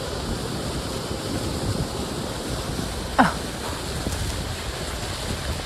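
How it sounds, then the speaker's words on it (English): Strong wind gusting through an outdoor park, a steady broadband rush buffeting the microphone with one brief knock partway through and no talking. "I can't believe how windy it is"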